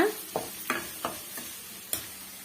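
Green and red chillies, including broken dried red chillies, being sautéed with onion in a pan for a raw banana podi, with a handful of distinct spoon scrapes over a soft sizzle, close and fairly quiet, no talking.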